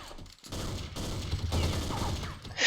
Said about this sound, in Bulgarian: Вай, човек, всичко стреля по мене.